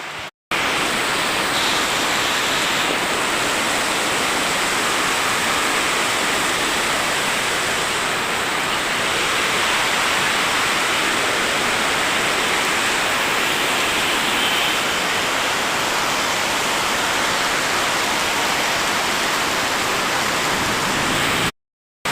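Heavy rain pours steadily outdoors, a dense, loud hiss with no breaks for the whole stretch, swelling slightly now and then, with no voices over it.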